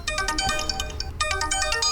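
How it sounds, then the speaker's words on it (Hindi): A phone ringtone plays a repeating electronic melody, loud and close, with a brief pause midway before the tune resumes. "फोन।"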